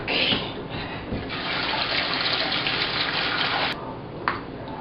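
Kitchen tap water runs steadily as potatoes are rinsed under it, a close, continuous splashing rush that shifts slightly as the food moves in the stream and ends abruptly.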